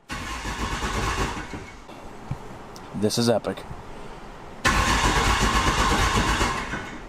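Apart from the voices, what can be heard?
Cummins diesel engine cranking in a Mustang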